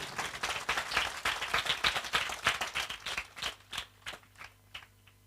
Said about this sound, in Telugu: చప్పట్లు కొట్టు గట్టిగా.